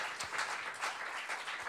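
Audience applause at a school end-of-year show, a dense, steady wash of many hands clapping that holds at an even level for under two seconds.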